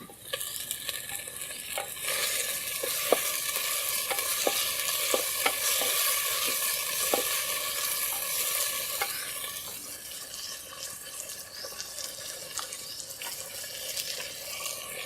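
Tomatoes frying and being stirred in a clay pot while cooking aloo paneer kofta gravy: a steady close sizzle with repeated scraping strokes of a spoon, with no voices.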